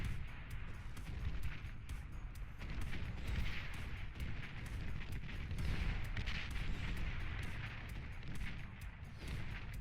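Repeated heavy tank cannon volleys and gunfire in the Beyond All Reason strategy game, the Janus tank firing amid a dense, continuous battle of booms and shots, loud throughout.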